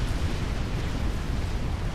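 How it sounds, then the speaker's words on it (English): A T3 Pigeon unit blowing up in Supreme Commander: Forged Alliance, a dense, rumbling explosion roar that fills the whole two seconds at steady loudness with no talk over it. "what he was actually killed by was an exploding T3 Pigeon that he happened to be standing beside"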